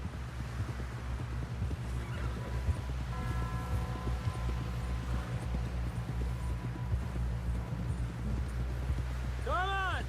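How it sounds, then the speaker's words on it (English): In Red Dead Redemption 2, a horse gallops with continuous rhythmic hoofbeats under game sound and voices, and a whinny rises near the end. "Someone help John down off this horse."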